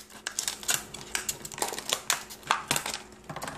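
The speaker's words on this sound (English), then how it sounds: "Then you take your pair of scissors" Scissors snipping along a sheet while making a smartphone hologram projector, a quick series of close, crisp cuts with short pauses between strokes.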